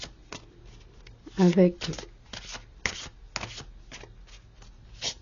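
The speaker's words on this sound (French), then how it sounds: "un tirage de 3 cartes pour poser l'ambiance, l'environnement" Tarot cards are shuffled by hand in a card-reading session, a brisk papery riffling with soft slaps and taps, close up and running beneath someone speaking French.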